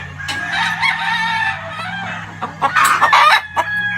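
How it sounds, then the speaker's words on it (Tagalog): A white Kelso gamefowl brood cock crows at a farm pen, two loud, close calls with a steady low hum running underneath. "This is our white Kelso pen. This is the brood cock."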